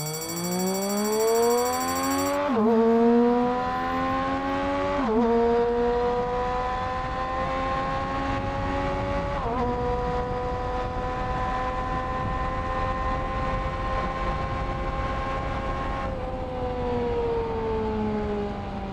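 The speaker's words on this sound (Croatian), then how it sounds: "Ajde, idemo sad ubrzanje od 0 do 100." A car accelerates from 0 to 100 km/h, its engine whine climbing steadily in pitch, then dropping sharply at each of four gear changes before rising again, heard from inside over road rumble.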